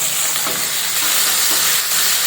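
Chopped onions frying in a pan give a loud, steady sizzle with a dense hiss that holds throughout, with faint scraping touches of stirring and no voices.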